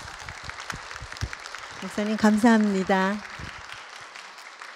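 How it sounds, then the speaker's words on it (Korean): Church congregation at a women's mission society retreat claps steadily, a soft wash of applause running the whole time under a voice that speaks briefly in the middle. "김태수 목사님께 감사의 박수를 보내드리겠습니다"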